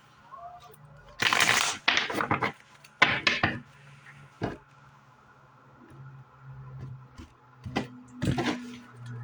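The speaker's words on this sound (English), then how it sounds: "One more shuffle." Tarot cards are shuffled near the microphone in a few bursts of riffling and tapping, with quieter handling sounds and pauses between them in an otherwise quiet room.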